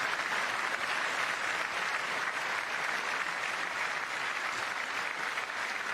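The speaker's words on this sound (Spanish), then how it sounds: "le aplauden de pie los religionarios de su partido" Sustained applause from a standing crowd of party members at a political event, dense and steady clapping filling the whole stretch with no voices over it.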